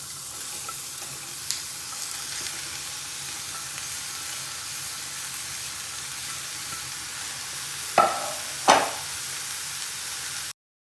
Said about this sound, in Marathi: आपण जो उभा चिरून घेतलेला कांदा आहे तो चांगला आता परतून घेऊया।